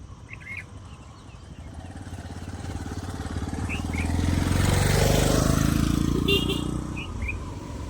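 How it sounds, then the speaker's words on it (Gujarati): A motorcycle that has run low on petrol approaches and idles, its engine growing louder to a peak midway and then easing off, with birds chirping in the background. "બાઇક તો આવ્યું"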